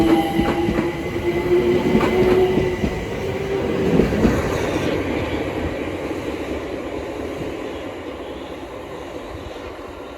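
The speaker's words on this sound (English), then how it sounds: "Now departing is the 1406 London Overground service from Crystal Palace to Hybri in Islington." A London Overground service pulls out of Sydenham heading from Crystal Palace toward Highbury & Islington, its steady rolling rumble and wheel noise starting strong and easing gradually as it moves off, with no voices.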